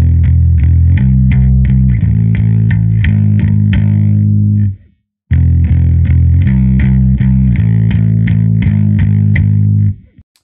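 Distorted bass guitar plays a doom riff, heavy, fuzzy low notes in two loud phrases separated by a short silence near the middle.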